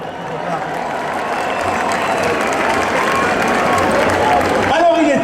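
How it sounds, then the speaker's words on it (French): A large crowd applauds in Bayonne at the opening of the town's summer festival, a dense, sustained roar of clapping and cheering that swells slightly toward the end. "Je crois que c'est tout Bayonne qui vous applaudit encore une fois."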